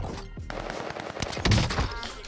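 Sniper rifle fire in a first-person shooter video game, a few sharp gunshot blasts in quick succession with a heavier hit near the middle, loud and close.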